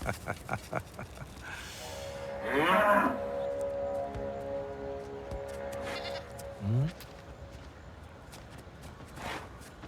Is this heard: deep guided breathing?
no